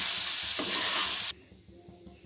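A spatula stirs onion poha in a hot pan, scraping and sizzling loudly for about a second before the noise drops to near quiet.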